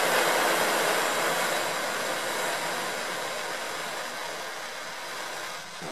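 A butane culinary torch burns with a steady, loud broadband hiss close by, holding an even roar for several seconds before dipping slightly at the end.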